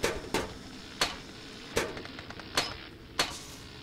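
A hammer strikes repeatedly in FNAF VR Help Wanted while a fiery Foxy animatronic is being repaired, landing six sharp, ringing metallic blows at uneven intervals over a quiet hum.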